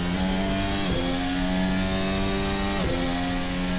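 A Maserati race car engine in an F1 racing video game screams at high, steady revs, dipping briefly at two quick gear shifts before climbing again, loud and close throughout.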